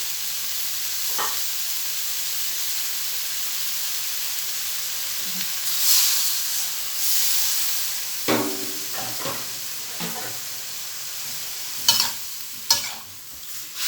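Mixed vegetables stir-frying in a pan with a little added water, a steady broad sizzle and hiss throughout, broken by scraping spatula strokes and clanks that grow busier toward the end; no talking.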